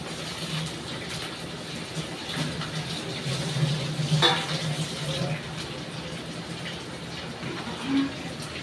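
Washed chicken pieces fry with onions in a pan, giving a steady, moderately loud sizzle throughout with an occasional stir or clatter and no one speaking.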